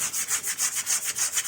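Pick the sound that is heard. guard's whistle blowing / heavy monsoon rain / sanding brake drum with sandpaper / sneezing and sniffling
sanding brake drum with sandpaper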